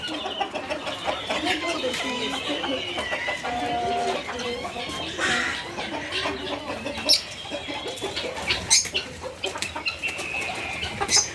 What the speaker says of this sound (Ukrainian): Дивись, які попугайчики.